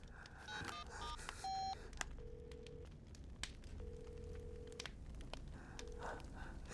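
Satellite phone in an underground house giving off a string of electronic beeps and tones while dialing: quick chirps at first, then longer steady tones with pauses, quiet and without speech.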